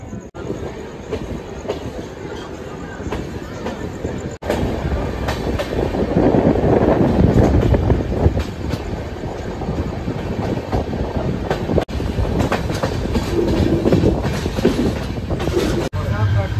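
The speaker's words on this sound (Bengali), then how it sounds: "আমাদের ট্রেন এখন ছেড়ে বেরোচ্ছে বোলপুর রেলওয়ে স্টেশন থেকে।" A passenger train pulls out of Bolpur railway station, its wheels rumbling and clicking rhythmically as it gathers speed, with some faint squeal, heard from inside a carriage with a steady, loud roar and a few sharp knocks.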